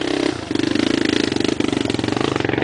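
Trail motorcycle engine revving close by on a group trail ride, a loud rapid staccato putter rising and holding steady across the whole stretch.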